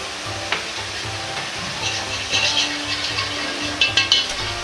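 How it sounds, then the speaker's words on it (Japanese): Curry powder cooking in oil over low heat for a pork belly curry fried rice, with a soft steady sizzle and a few metallic scrapes and clinks of stirring growing toward the end. "カレー粉は焦げると苦味が出るので弱火で炒めます"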